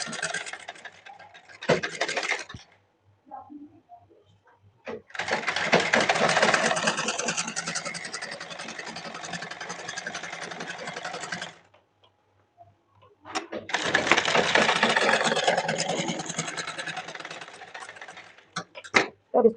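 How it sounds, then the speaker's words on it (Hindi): A sewing machine stitches a blouse armhole, running in two long, steady bursts of fast mechanical whirring and ticking with short pauses and small handling noises in between, close and fairly loud. "तो यहाँ पर सिलाई लगा लेते हैं।"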